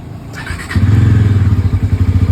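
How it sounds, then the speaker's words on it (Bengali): A Bajaj Pulsar NS400Z motorcycle engine starts with a short crank, then settles into a loud, deep, throbbing idle with a steady pulsing rhythm, close by and alone. "ও সেই ডমিনারের সাউন্ড"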